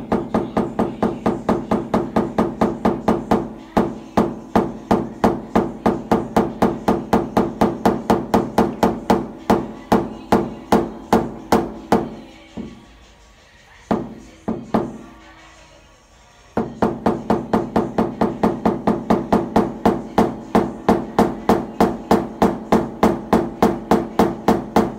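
A rapid, steady train of sharp metallic taps as a hammer drives a pin against a car body panel to remove a dent, close and loud, pausing briefly midway for a few isolated knocks before resuming the fast rhythm.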